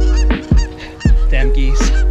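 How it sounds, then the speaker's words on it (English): Geese honk loudly and close by, giving about four harsh honks in quick succession over steady low background rumble, with no speech. "damn geese."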